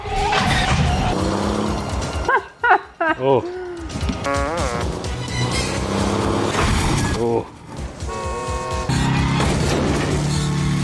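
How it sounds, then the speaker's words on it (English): Car crash effects from the action film Terminator 2: Judgment Day, with dense engine roar, impacts and shattering across the span, while a couple of viewers react and talk over the loud movie soundtrack. "So many car wrecks in this."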